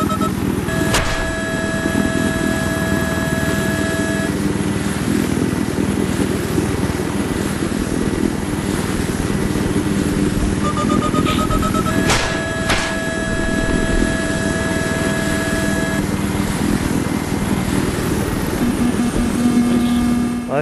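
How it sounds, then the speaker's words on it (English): Helicopter in the Battlefield 3 video game, a loud, steady rotor and engine drone running throughout, with sharp in-game effects and bleeps cutting in over it. "maybe I'll repair this chopper"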